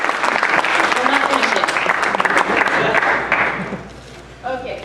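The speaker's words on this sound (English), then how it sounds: "We were just clapping because you're awesome." An audience at a technology lecture breaks into loud, sustained applause, dense clapping filling the room before tapering off near the end as voices rise.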